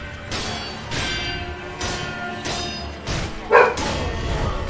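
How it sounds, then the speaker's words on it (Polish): A dog barks repeatedly in Sekiro: Shadows Die Twice, about five loud broadband bursts at roughly even spacing over dense game background noise. "póki pies tak szczeka"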